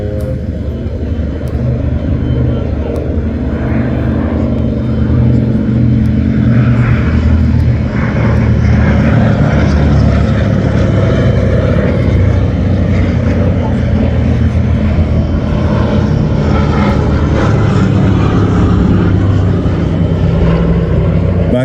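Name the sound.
Douglas DC-3 and C-47 Dakota propeller aircraft flying at airshow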